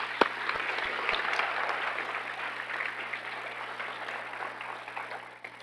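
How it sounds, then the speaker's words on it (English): Audience at a Night of the Stars 2023 ceremony breaks into sustained applause, a dense wash of clapping with a few sharp nearby claps at the start, gradually fading toward the end. "Please take a moment to round of applause."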